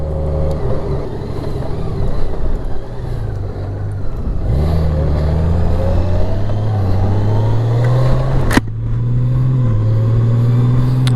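Honda Gold Wing motorcycle cruising on a road in Fayetteville, Georgia, its engine a steady close drone that rises through gear changes, with a brief sharp knock partway through and no talking.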